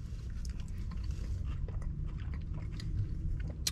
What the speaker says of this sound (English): Another big bite